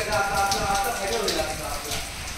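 Steady rain pours down outdoors near farm fields in the rice-harvest season after a night of heavy rainfall, a dense, even patter that continues throughout at moderate loudness.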